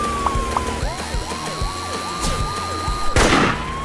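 A sniper headshot in the Henry Stickmin Collection game lands as a sharp, loud burst near the end, after chirpy warbling game sound effects and background music.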